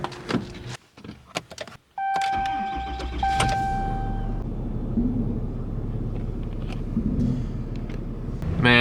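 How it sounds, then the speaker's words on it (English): A 2022 Ram 2500 pickup with a Cummins diesel engine gives a few clicks and cabin chimes, then fires up with a sudden jump into a steady low diesel rumble that carries on as it pulls away. "So gonna go ahead and start her up and go for a drive."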